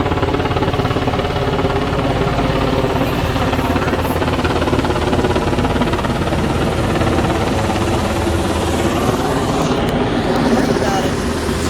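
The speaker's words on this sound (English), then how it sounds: "She's doing a slow flyby." An airplane makes a slow flyby over a flood-stricken area of Kentucky, a loud, unbroken engine drone that stays steady for the whole stretch and rises slightly toward the end.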